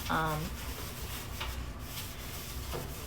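A cleaning tool scrubs the inside of an oven with continuous rubbing and abrasive scraping, steady and close, with a brief voice near the start.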